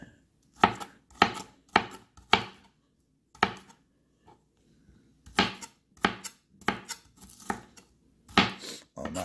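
Imarku 7-inch stainless santoku knife chopping food on a board, a series of sharp, close knocks in quick bursts separated by short pauses.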